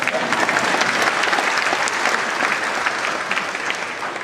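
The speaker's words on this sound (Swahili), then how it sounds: "Kwani mnagoja kunipigia makofi za gani?" An audience at a speech in Kenya breaks into applause, a dense, steady wash of many hands clapping close by that holds evenly throughout and eases slightly toward the end.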